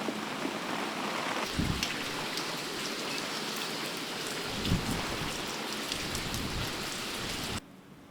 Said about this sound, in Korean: 염부들의 사택에 비가 몰아칩니다.